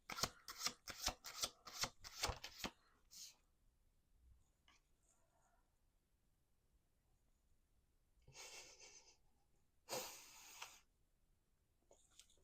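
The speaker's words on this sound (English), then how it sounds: "One more shuffle." Tarot cards shuffled by hand in a quick series of close riffles at the start, followed by quiet gaps and two later brief shuffling bursts.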